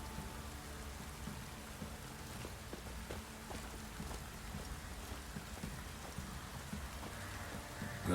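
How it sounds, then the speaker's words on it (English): Steady rain patters across a surface in The Witcher 3 video game, a dense constant hiss with scattered drops, continuing evenly with no voices. "Looks like rain."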